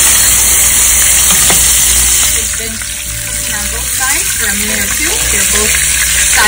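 Beef shank searing in a hot pan, a loud, close, continuous sizzle and crackle of frying meat with a brief dip in intensity midway, joined by a few quiet background voices.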